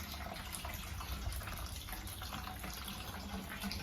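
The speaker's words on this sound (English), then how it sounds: "just filling up a bucket of cleaner with the nice hot water" Hot water running steadily from a tap into a bucket of cleaner during a home beer brew day, a constant hissing, splashing flow with no talk.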